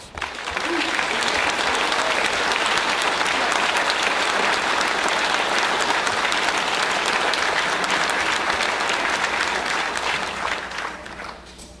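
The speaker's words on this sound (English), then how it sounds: "Would you join me in giving them a round of applause?" Sustained audience applause fills a police recruit class graduation ceremony, dense and steady for nearly twelve seconds before tapering off at the end.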